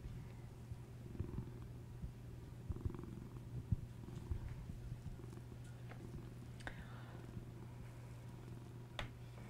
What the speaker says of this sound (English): Can you hear this cat purring on the mic?